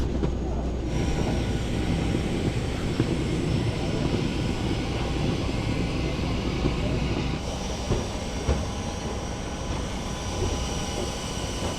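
Aircraft engine drone at an airport during boarding for a flight to Palma, Mallorca, a steady loud roar filling the whole clip with a slight drop in level partway through.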